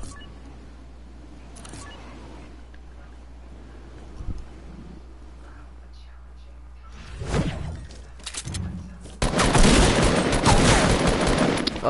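Gunfire in the battle royale game Fortnite: quiet background at first, then a cluster of sharp shots and a dense, loud burst of rapid firing toward the end, near and harsh.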